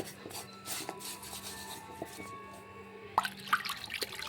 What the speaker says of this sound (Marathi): आता हे धुवून घेणार, मीठ टाकून अशी घासून घ्यायची थोडीशी।